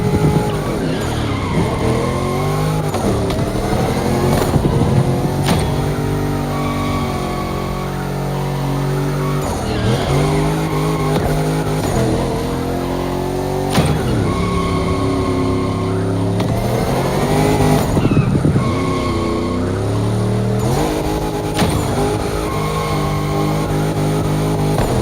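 Car drifting with screeching tire skids in The Crew Motorfest racing game, loud and continuous with engine revving that rises and falls through repeated slides.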